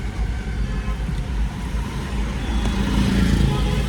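A car drives along and is being parked, with a steady engine and road rumble heard from inside and traffic noise around it, without any talking.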